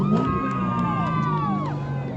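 A crowd gathered at a car meet cheers and whoops for drivers pulling up, a loud, steady wash of shouting voices with overlapping yells and whistles across the whole moment.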